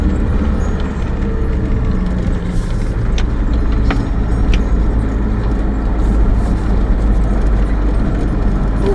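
Car engine driving on a road through Pembrokeshire toward Hafren Forest, a steady low rumble with road noise and a faint rattle of keys as the driver shifts into second gear, continuous and close throughout.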